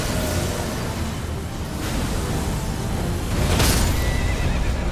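A horse whinnies in the Elden Ring video game, a loud neigh ringing out over steady game ambience and faint hoof clip-clop, with no speech.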